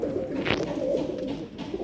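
A pigeon from Amritsar coos close by, a soft low rolling coo repeating through the short stretch with a faint background hum.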